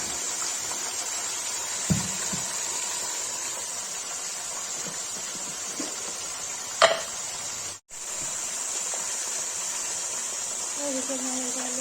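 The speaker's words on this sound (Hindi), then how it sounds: "गाइस मटन फ्राई के लिए रख दिया है, उसे नमक डाल के इसको ढक देंगे।" Mutton pieces salted and frying in a covered pan for Kashmiri rogan josh give a steady, even sizzling hiss throughout, with a couple of brief knocks near the start and middle.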